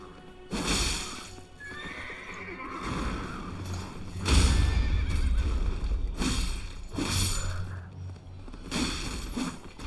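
A horse in the video game Elden Ring neighs and whinnies loudly in several bursts, with hooves clip-clopping and thudding between the calls, close and alone with no talk.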